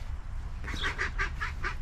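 A duck quacks five or six times in a quick, even series from nearby, outdoors where squirrels are about, with steady low background rumble and no talking.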